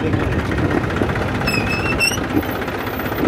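A Massey Ferguson 241 tractor engine runs steadily and close by as the tractor slows to a stop, a low continuous mechanical drone with brief high whines near the middle and a short spoken word over it.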